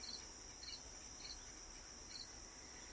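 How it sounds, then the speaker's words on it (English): Crickets chirp faintly in a steady, pulsing trill, repeating evenly against a quiet outdoor background. "Listen to the nature as it sings. The crickets crackle."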